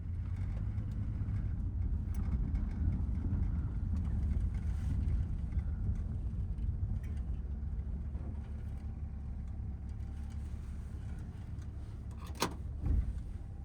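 An automatic car shifted into drive and pulling away, heard from inside as a steady low engine and road drone that holds even for most of the span, with a brief louder bump near the end.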